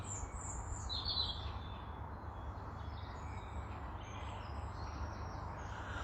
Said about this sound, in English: just listen to the birds.